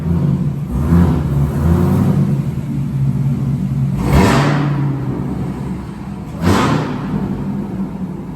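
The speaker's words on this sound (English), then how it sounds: "give you guys a quick little rev of the engine bay so you can hear what the factory supercharger sounds like" Supercharged Chevrolet Corvette Z06 engine revved three times from idle, each blip rising and falling quickly over a steady loud rumble, heard close up at the engine bay with the factory supercharger whine.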